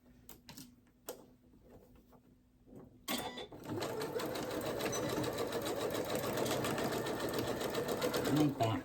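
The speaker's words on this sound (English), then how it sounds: "And I back stitch a couple times." Sewing machine back stitching a seam on pajama pants, a few short rapid bursts of stitching near a voice, then a longer continuous rattling run of stitches.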